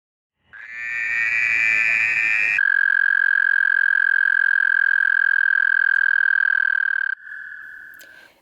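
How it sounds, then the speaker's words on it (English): Frogs or toads calling in an arboretum wetland: a loud, close, long, even trill that runs in a few unbroken stretches, each shifting slightly in pitch. "The wetlands are also home to many frogs and toads."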